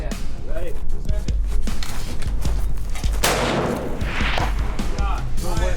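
A Ruger Hawkeye rifle in 6.5 PRC fires at long-range targets set between 300 and 1,400 yards. Loud, close blasts ring out while people talk throughout.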